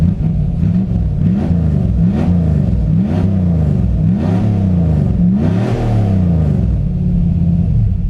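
A 1984 TVR 4.0 V8 Wild Wedge with a competition carburettor revs repeatedly in wet winter weather, each throttle blip rising and falling in a steady rumbling cycle. The engine is close and loud, with no talk.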